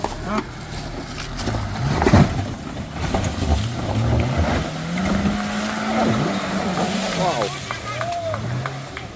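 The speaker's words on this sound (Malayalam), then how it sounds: "എക്സ്ട്രീം ട്രാക്കിലേക്ക് നമ്മുടെ ജിപ്സി വരുന്നുണ്ട്" A Maruti Gypsy climbs an extreme off-road track, its engine revving and straining in changing pitch under wind buffeting, while people talk and call out nearby throughout.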